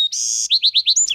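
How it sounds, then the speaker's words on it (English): Birds chirp and tweet in orchard trees and coast live oaks at a lakeside county park, a sustained high trill followed by a quick run of five or six clear, evenly spaced chirps, close and bright with no talk. "There are all kinds of birds singing and jumping around in the trees."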